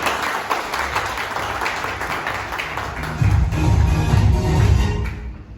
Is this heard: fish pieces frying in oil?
no